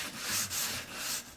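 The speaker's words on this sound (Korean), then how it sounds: "그러고 나서 우리는 사포를 합니다." Hand sanding with a piece of cloth sandpaper folded into thirds during a painting class, close-up rhythmic rasping strokes, several back-and-forth rubs in a row with no talking.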